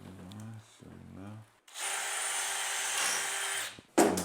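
A rotary hammer drills into a ceiling during home construction in France, a loud, steady, close grinding roar lasting about two seconds after someone speaks briefly, then cutting off with a short clatter.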